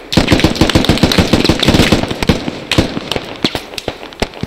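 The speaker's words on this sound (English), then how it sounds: "We're just in a firefight." Rapid rifle and machine-gun bursts crack close and loud during an infantry firefight in the military game Squad, dense at first and then thinning to scattered single shots.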